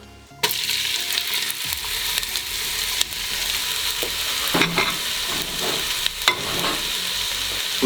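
Red onion fries in melted lard in a large pot while bean stew is being made, giving a steady close sizzle broken by stirring clatter and several sharp knocks against the pot.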